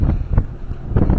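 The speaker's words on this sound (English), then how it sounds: "Well, it's windy out today" Gusty outdoor wind buffets the microphone with a low, rumbling roar that swells in short bursts over a little more than a second.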